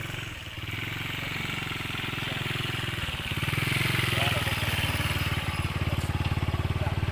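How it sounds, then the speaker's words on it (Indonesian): A motorcycle engine runs steadily on a rural road near Bojong village in Tretep, Temanggung, Central Java, its rhythmic putter throbbing close by and swelling louder midway, with a voice speaking faintly under it. "Sana ada motor."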